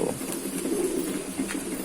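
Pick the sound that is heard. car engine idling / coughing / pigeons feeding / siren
pigeons feeding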